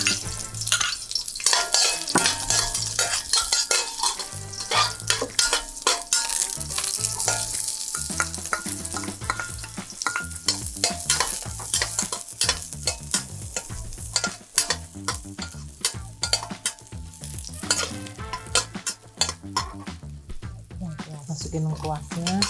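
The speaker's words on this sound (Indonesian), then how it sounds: "Ya, seperti biasa kita tumis 2 bawang." Garlic and shallots sizzle steadily in hot oil in a home kitchen, a spatula stirring and scraping the pan in a busy, continuous rhythm, close and fairly loud, with a voice talking over it at times.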